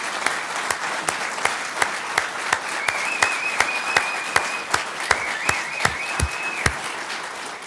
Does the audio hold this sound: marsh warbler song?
no